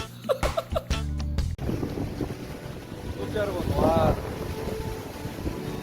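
Huge sea waves and strong wind at Simgok fishing pier in Gangneung: a continuous loud roar of surf and wind buffeting the microphone, with sharp knocks at the start and a voice briefly heard over it.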